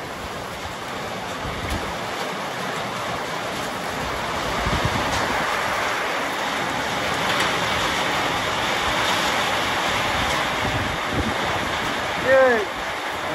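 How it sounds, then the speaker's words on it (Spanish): Heavy rain pours down steadily in Ayoquezco, Oaxaca, a broad, dense roar that holds at an even level throughout, with a brief faint sound near the end. "Aquí sí está lloviendo fuerte."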